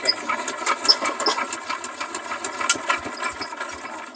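Small single-cylinder walking tractor engine running after being started, a steady fast mechanical chugging with rattles, close and loud throughout.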